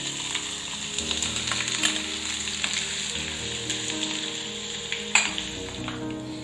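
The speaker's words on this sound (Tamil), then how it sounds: "இஞ்சி ஓரளவுக்கு நல்லா ஃப்ரை ஆனதும்" Finely chopped ginger frying in ghee with black pepper and cumin, giving a steady close sizzle with soft crackles and a few brief pops, with no one talking.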